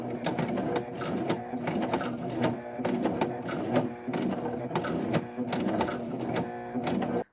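A sewing machine works slowly through a thick fleece hood seam of a jacket, its needle knocking in short, uneven bursts with brief pauses between. The stitching stops abruptly at the end.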